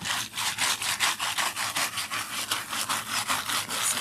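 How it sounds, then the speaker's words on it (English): Foil being scrubbed over a wooden Halloween porch sign, a rapid, steady back-and-forth rasping stroke repeated about twenty times, close and fairly loud with no voices. "I just don't scrub all the way up to this sharp edge here"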